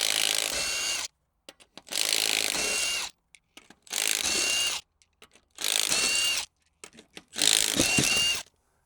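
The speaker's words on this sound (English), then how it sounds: "This 3/8 drive will take these off" A compact 3/8-inch drive impact wrench takes lug nuts off a Kawasaki H2, firing in five loud bursts of rattling hammering, each about a second long, separated by short quiet gaps with small clicks.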